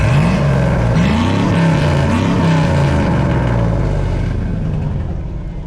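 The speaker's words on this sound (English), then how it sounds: "Go ahead and give us some revs." Deep, loud GMC truck engine with aftermarket Scat Pack mufflers revving up and down in a few rumbling swells, then settling toward idle.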